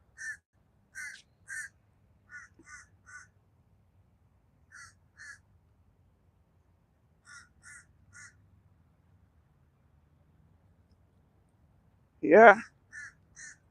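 Crows caw repeatedly from a tree outdoors in short spaced bursts, mostly in pairs and triplets, fairly distant and clear over quiet background, with a brief spoken word near the end.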